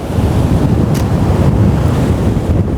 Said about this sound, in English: as the tide's rising, the water is coming in surges